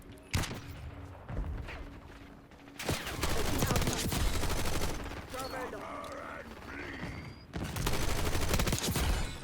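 Rapid gunfire from the PU-21 Unearther blueprint rifle in a video game, heard as dense, sustained bursts separated by brief lulls and layered with loud in-game mechanical and ambient noise.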